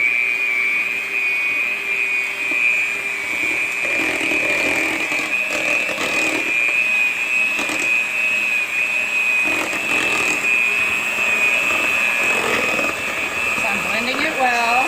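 An electric mixer's beaters whir continuously through low carb bread dough at a steady, loud pitch, with a voice talking over the motor.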